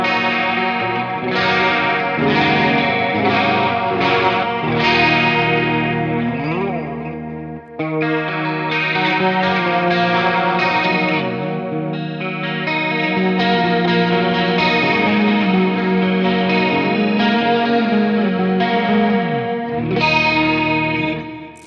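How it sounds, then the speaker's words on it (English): A clean amp tone from an ENGL Ravager run through stock Reaper modulation, delay and reverb effects, with chorused, echoing chords ringing steadily and loudly for the whole stretch, one brief drop partway through. "I got a few effects over here which I'm turning on, so a modulation, a delay, and a reverb."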